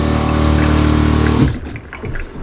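Water running steadily from an RV faucet fed by a Seaflow water pump, a strong rushing flow, then cut off abruptly, leaving a few faint clunks and drips.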